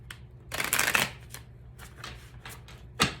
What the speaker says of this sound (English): So I'm going to pull 2 cards here.